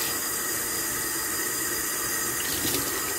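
A steady hiss of water running from a tap, constant and fairly loud throughout, with a slight splashing change near the end.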